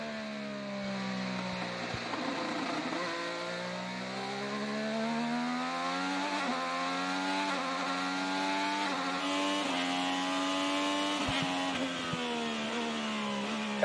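An IndyCar race car laps the Mid-Ohio circuit during practice for the 2025 Honda Indy 200, heard from on board: a loud, continuous high-revving engine whine rising and dropping through repeated gear shifts, with no voices.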